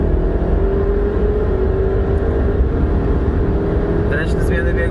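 Audi A3 2.0 TFSI accelerating hard through a 100-200 km/h run, a loud steady engine drone heard from inside the car with a rising tone, and people talking briefly near the end.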